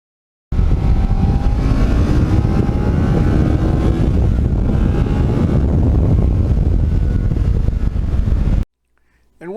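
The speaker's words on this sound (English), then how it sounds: "a pure Ninja is made, for one thing, just to go around corners in an entertaining manner and S-turns, and this bike does that so well." A Kawasaki Ninja sport bike being ridden through corners and S-bends, its engine a loud, steady roar mixed with rushing wind for about eight seconds before it cuts away abruptly.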